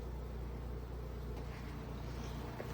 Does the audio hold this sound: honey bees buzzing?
yes